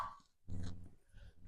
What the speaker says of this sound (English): hear that dog.